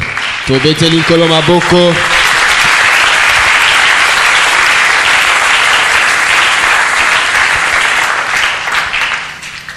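A church congregation bursts into loud sustained applause and cheering that fills the room, with a short sung or called phrase at the start before the clapping carries on and fades slightly at the end.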